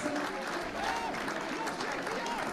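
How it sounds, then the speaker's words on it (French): Spectators at a Villeneuve versus Carcassonne Super 13 rugby match clap for a junior player making his debut, a steady wash of applause running under a commentator's continuous talk. "on peut l'applaudir"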